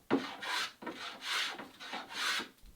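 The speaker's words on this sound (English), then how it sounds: "a block plane or a smoothing plane is the best tool for the job" Long rhythmic rasping strokes of a hand plane shaving wood while fairing a wooden boat backbone, three or four steady passes close up with short pauses between, no talking.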